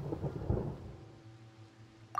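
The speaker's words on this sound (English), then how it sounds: "Paimon hears thunder!" A low thunder rumble in the video game Genshin Impact swells and fades over a faint steady hum, with a short bright effect sound at the very end and no voices.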